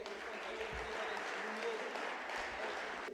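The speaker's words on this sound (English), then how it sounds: "Right, give Mr. Jacobs a round of applause" A crowd at a rugby reunion claps steadily throughout, a dense, even patter of applause heard from a distance at moderate volume.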